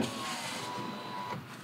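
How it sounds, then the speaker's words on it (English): A car's power window motor whirs steadily as the window lowers, a close, even electric hum lasting over a second before it stops. "Let me try to crack this window for you."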